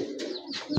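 Pigeons coo softly in a pigeon house, with two or three short cooing calls close by over a quiet background.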